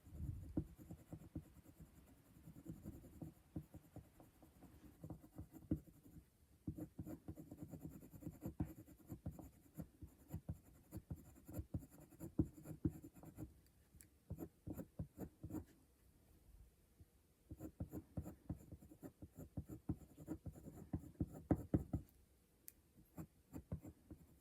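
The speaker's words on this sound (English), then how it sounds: "just using this pencil to really darken them up a bit more" Coloured pencil shades on paper while drawing a polar bear's darker fur areas, giving a quiet, close, continuous scratchy scribbling in rapid back-and-forth strokes with brief pauses between bursts.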